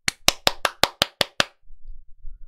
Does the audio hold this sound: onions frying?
no